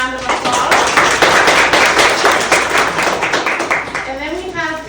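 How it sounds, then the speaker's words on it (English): An audience applauds a housing lending panelist at a lunch-and-learn homebuyer panel, a dense, steady patter of clapping filling the room, with voices murmuring through it and a speaker starting to talk as it fades. "let's give Jon a round of applause"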